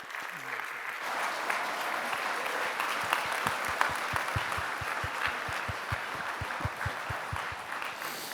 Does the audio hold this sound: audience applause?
yes